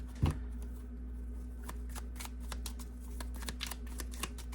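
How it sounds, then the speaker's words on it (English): Tarot cards are shuffled by hand in a quiet room, a fast run of crisp riffling flicks and soft taps, close and fairly faint over a low steady hum. "I hope you saw that while shuffling."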